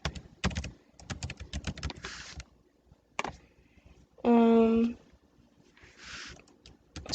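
Someone types a search into a computer keyboard: quick bursts of close, crisp key clicks with short pauses between them, and a brief tonal beep partway through.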